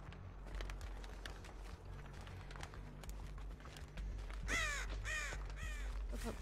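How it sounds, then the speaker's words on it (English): In the video game Dead by Daylight, a crow caws several times in a loud, harsh burst near the end, following a stretch of quieter footsteps and ambient game noise. "Shut up, stupid crow."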